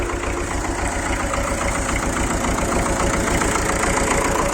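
A tractor engine idles in a field used for ploughing, giving a steady loud low throb with a regular knocking pulse and no voices over it.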